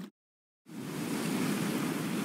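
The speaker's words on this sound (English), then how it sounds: "gentle ocean." A gentle ocean soundscape from the Poly Lens app begins after a short silence, a steady soft wash of surf noise that continues evenly, with no one speaking.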